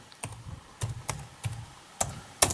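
A shutdown command typed on a computer keyboard: about six sharp, close key clicks in an uneven rhythm, each with a soft thud, separated by short quiet gaps.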